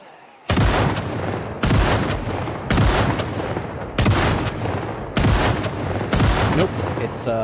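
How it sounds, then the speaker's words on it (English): Six loud shotgun blasts boom at roughly one-second intervals in Project Zomboid, each with a sharp crack and a rolling tail, fired in a steady series. "just do a few pew-pews with the shotgun"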